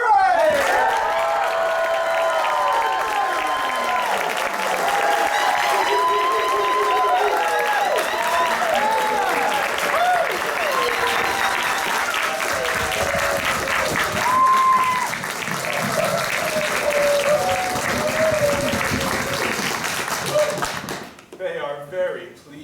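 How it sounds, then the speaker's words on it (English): A raucous second round of audience applause at an improvised ancient-mythology comedy show, loud and sustained for about twenty seconds, with cheering voices and whoops riding over the clapping before it cuts off abruptly near the end. "a raucous, excessive, almost unwarranted second round of applause"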